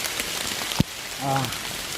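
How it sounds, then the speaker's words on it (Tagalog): Rain falling outdoors, a steady hiss of drops throughout, with a sharp knock partway and a brief voice near the end. "So nabutan kami ng ulan ni Redin mga kaidolo."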